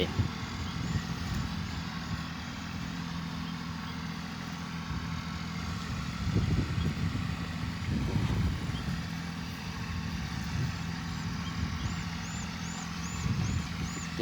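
A tractor engine drones steadily while plowing a rice field in rural northeastern Thailand, a continuous mid-pitched rumble with a few louder surges.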